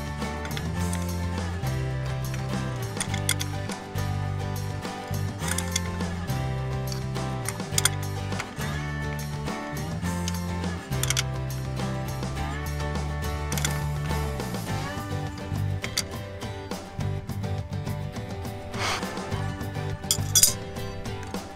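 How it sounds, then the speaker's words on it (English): A hefty crescent wrench tightening the threaded locking pin on a Brute Elite II T-bar tow setup for an RV, giving repeated close metallic ratcheting clicks and clinks in an uneven rhythm. "Get my hefty crescent and go ahead and lock it down."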